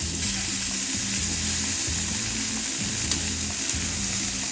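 Tomatoes sizzle steadily in a hot pan with browning mushrooms and spinach for a frittata, a close, continuous frying hiss over a low hum with faint stirring, no voices.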